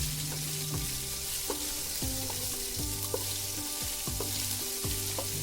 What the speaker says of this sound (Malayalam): ആ ഇഞ്ചിയുടെ പേസ്റ്റും അതുപോലെ സവാളയും നല്ലവണ്ണം വഴന്നു വരുന്നവരേക്കും നമുക്കൊന്ന് ഇളക്കി കൊടുക്കാം